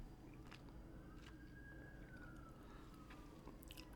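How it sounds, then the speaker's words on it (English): A faint siren wails in the distance, one slow rising and falling tone over a low, steady background rumble. "There's a siren going on out there."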